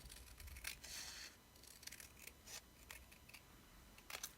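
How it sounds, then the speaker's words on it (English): Scissors snip quietly while cutting a piece for an abstract collage, with a few soft, separate cuts, near but faint, in an otherwise hushed room without talk. "I am going to try and cut that just a little bit straighter down here."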